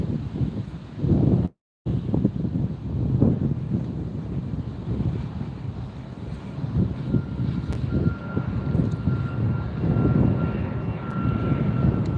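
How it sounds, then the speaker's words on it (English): An Airbus A321 takes off from LAX for Honolulu, heard from the beach as a steady low engine rumble mixed with gusty wind buffeting the microphone, briefly cut out near the start, with no talk. "Airbus 321 taking off for Honolulu in just a minute"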